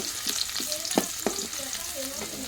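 Chopped onion sizzles steadily in overly hot oil for a vegetable dish, with several sharp scraping stirs of a spatula breaking through the close, continuous frying hiss.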